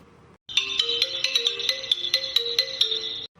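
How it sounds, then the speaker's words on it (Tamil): A phone ringtone plays a bright, repeating melodic pattern at moderate volume, starting after a brief silence and stopping abruptly near the end. "யார் இந்த நேரத்தில் மாற்றி மாற்றி ஃபோன் அடிச்சிட்டு இருக்குது"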